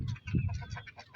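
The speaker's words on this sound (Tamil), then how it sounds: "இதோ வாத்து" Ducks on a small farm quack in a rapid run of repeated nasal calls, close and moderately loud, with chickens and a rooster nearby in the flock.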